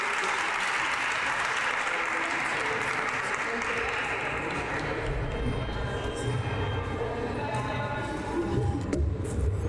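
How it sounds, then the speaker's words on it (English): At a National Savings Day press conference, an audience gives a sustained round of applause, dense clapping that carries on evenly and thins slightly toward the end. "Let's give our families another big round of applause"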